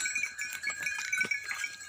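A village flock of sheep bleats close by, with several overlapping wavering calls in quick succession and no speech.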